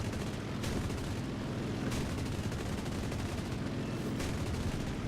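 Rapid, continuous gunfire from the I-180S fighter's aircraft guns in the combat flight game War Thunder, a dense rattling burst with a few sharper bangs, loud and steady throughout.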